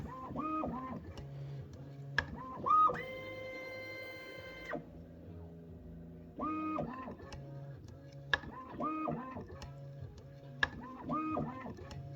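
A Rocky Mountain PLC matrix filler machine runs through rows, with repeating mechanical motor whirs, stepping tones and ticks in a steady cycle, plus a faint voice underneath.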